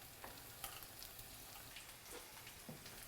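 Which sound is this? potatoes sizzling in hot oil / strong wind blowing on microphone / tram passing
potatoes sizzling in hot oil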